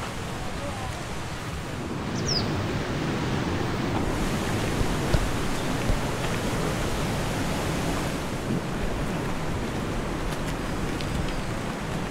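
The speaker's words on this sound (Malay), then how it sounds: "Bawah ni lah anak sungai yang terus sampai ke latar." A flowing stream below a campsite near an Orang Asli village gives a steady, broad rushing wash of water, continuous and fairly close, with faint wind in the background and no clear talking.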